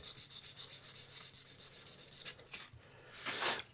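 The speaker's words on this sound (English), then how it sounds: "If you use your finger on here, you can usually kind of sand up to the radius" A guitar neck finish is sanded by hand on a Johnny Ramone guitar build, giving a soft, steady back-and-forth rubbing that is faint and close, then swells into a louder scrub near the end.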